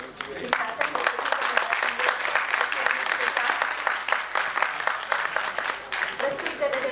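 Audience in a theatre applauding at a Hindi stage play, a dense, sustained round of clapping that fills the whole stretch at a steady, moderate level.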